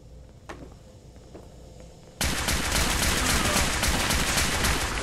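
Radium rifle fire in Fallout 4: a few faint clicks and steps, then a sudden loud, sustained automatic barrage of rapid shots that stays dense and steady to the end.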